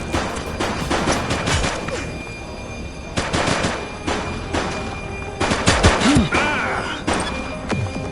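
Gunfire from a police video game crackles in repeated bursts of shots and thuds, loud and close, with some impacts landing in clusters and brief lulls between volleys.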